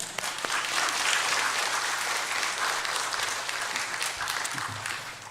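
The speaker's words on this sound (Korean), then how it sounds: "우리 뜨겁게 환영의 박수를 올려드리겠습니다" An audience applauds warmly at a church service welcoming a missionary, clapping building quickly and holding steady before gradually thinning out near the end.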